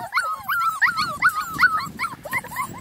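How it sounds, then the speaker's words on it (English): A litter of beagle puppies in a doghouse yipping and barking in rapid, high, squeaky bursts, close and continuous over a soft background of scuffling. "we got a little barker in the doghouse."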